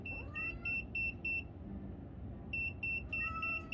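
ERICKHILL EMF radiation detector pointed at a wall near a power line, giving bursts of sharp high electronic beeps in quick regular runs, a pause, then more beeping, fairly faint with no talk.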